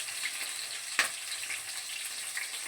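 Mustard seeds, cumin and green chillies sizzling in hot oil in a bowl-shaped pan, a soft continuous hiss with one sharp pop near the start, no voices.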